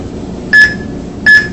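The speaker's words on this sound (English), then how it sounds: "it alarms the agent with a beep sound, along with a visual flashing signal as well." An agricultural drone's alarm gives two short, clear electronic beeps about three quarters of a second apart over a low background hum.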